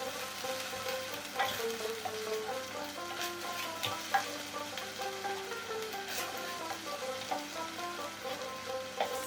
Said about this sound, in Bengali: মিডিয়াম টু লো ফ্লেমে 2 মিনিট মশলাটা কষে নেব।